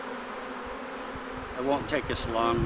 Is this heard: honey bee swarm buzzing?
yes